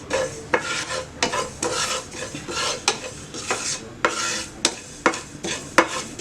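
Chia seeds being stirred and dry-roasted in a pan, with the spoon scraping and clinking against the pan in an irregular rhythm over a soft sizzling rustle, close and fairly quiet.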